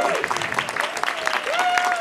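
Audience applause at a school board of education meeting, steady clapping throughout with a faint tonal sound running under it.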